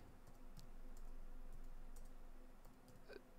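Typing on a computer keyboard while coding, a steady run of soft clicks over low room hum, fairly faint and close.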